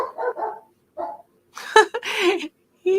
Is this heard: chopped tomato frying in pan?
no